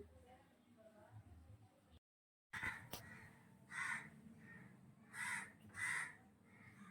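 Several crows caw in loud, repeated bursts near an outdoor home shrine, the harsh calls spaced a second or so apart, while someone talks before and between them.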